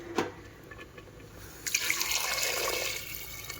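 Hot water poured into a cooking pot for chicken pulao, a steady splashing gush that starts partway through and runs loud and close to the end after a quieter start.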